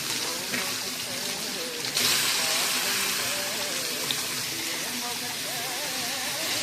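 Crushed ginger and garlic hit hot oil in a pan while cooking a beef gravy, a loud steady sizzle and hiss from close by, with a voice talking over it.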